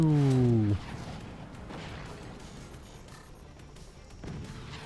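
Cannons fire at the ground in a video game. A loud falling whine opens, then gives way to a rough, rumbling stretch of scattered blasts and impacts at moderate volume.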